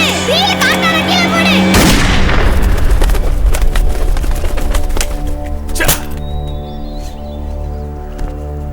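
A single sharp gunshot cracks out early, followed by lingering ringing tones and background sound.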